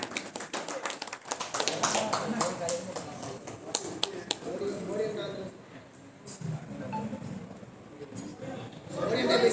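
Brisk applause from an event audience at a concert ticket launch, dense rapid claps at the start that thin out and fade while a voice talks over them through the rest.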